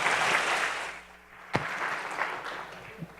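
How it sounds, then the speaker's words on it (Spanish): Audience applause welcomes a speaker to a health forum stage, a dense wash of clapping that fades partway, then carries on more softly with a sharp knock in the middle. "Démosle un fuerte aplauso y una bienvenida muy cálida a este escenario al doctor Julio Frank Mora"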